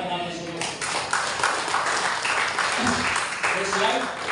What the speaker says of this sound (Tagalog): Palakpak natin sa Diyos.